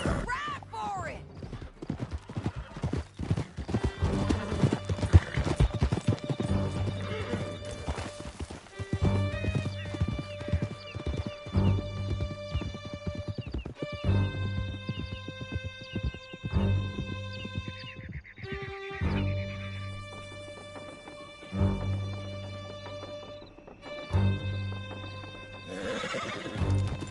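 Horses galloping and whinnying in the video game Red Dead Redemption 2, rapid clip-clop hoofbeats under tonal music and loud neighs, with voices talking over the ride.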